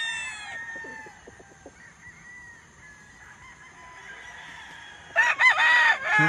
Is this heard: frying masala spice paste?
no